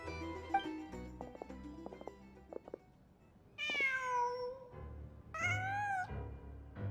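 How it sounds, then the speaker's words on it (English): A cat in the video game Genshin Impact meows twice, each call clear and drawn out with a rising, falling pitch, following soft music-like tones and a quiet pause. "Just a cat."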